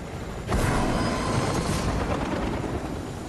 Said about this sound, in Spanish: La verdad que al helicóptero le falta poder disparar